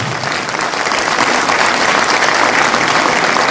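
Loud, dense applause fills a Safe Shop business meeting hall for an upline leader, a continuous roar of many hands clapping that swells slightly and stays strong to the end.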